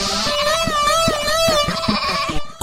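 A cartoon goat bleats in a quick series of wavering, nasal cries, loud and close, ending abruptly after a couple of seconds.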